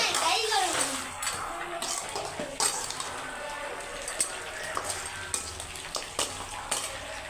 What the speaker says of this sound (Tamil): நண்டை குழம்புல போட்டாச்சு மசாலாவில் போட்டாச்சு